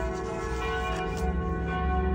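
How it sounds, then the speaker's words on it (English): A bell rings at a bar during cocktail happy hour in Germany, its steady sustained tones carrying through the whole stretch over a low background hum. "The bell is ringing."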